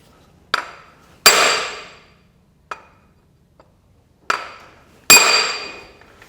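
A hammer strikes a punch against the lift cover of a Massey Ferguson 65 tractor, five sharp metallic clinks with ringing tails spaced irregularly over quiet gaps, close and loud.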